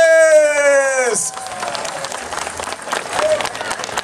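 Applause and crowd noise from an afternoon concert audience rise as a sustained clapping wash after a held tone cuts off, continuing steadily to the end.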